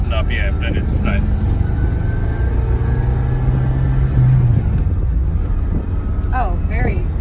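A 1979 Ferrari 308 GTS engine while driving, a loud continuous rumble that rises and falls as gears change, with a person talking over it.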